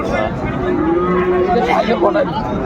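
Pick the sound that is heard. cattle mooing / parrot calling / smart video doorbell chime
cattle mooing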